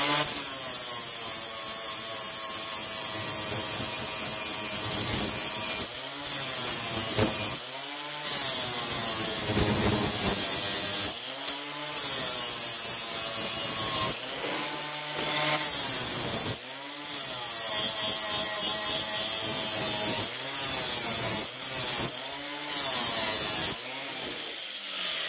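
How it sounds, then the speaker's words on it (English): Power grinder flattening the threads on a bolt, a loud, continuous high whine that dips and recovers repeatedly as the tool bites, with brief pauses between passes, close by and heard alone. "We don't want to grind too much out of this. You're just flattening the threads."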